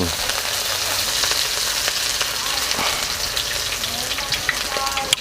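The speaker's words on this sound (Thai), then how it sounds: "นำไปทอดกับทีนี้ น้ำมันร้อนแล้วก็ใส่เลยนะครับนี่" Shrimp cakes fry in hot oil with a dense, steady sizzle and crackle, close and continuous throughout, with faint occasional stirring.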